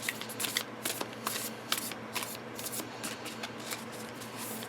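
Tarot cards riffle shuffled by hand, a close, crisp flurry of rapid fluttering card snaps in repeated bursts, fairly quiet and with no voice over it.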